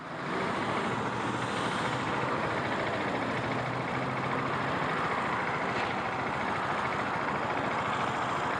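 A 2017 KTM Duke 690 single-cylinder motorcycle on a demo ride with its stock muffler gives a steady, continuous engine drone, mixed with broadband road and wind rush that stays even throughout.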